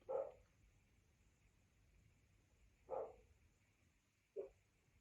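A dog barks three times inside a house, each bark short and muffled, spaced a few seconds apart, faint and distant over a quiet background hum.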